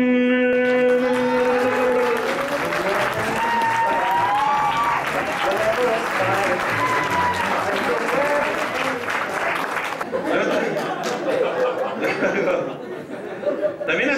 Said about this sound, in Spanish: Un fuertísimo aplauso